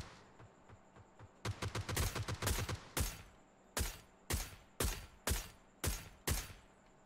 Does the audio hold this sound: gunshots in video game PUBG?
yes